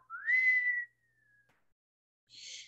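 A person whistles to imitate a girl whistling in her sleep: one rising then sliding tone, held and fading, followed after a pause by a brief breathy whistle, close and clear with no other sound.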